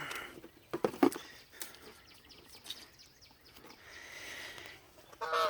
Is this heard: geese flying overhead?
yes